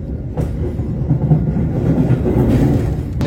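The Argo Bromo Anggrek executive passenger train rolls along the tracks after leaving Cirebon station, with a loud, steady rumble and rhythmic clatter of wheels, no voices.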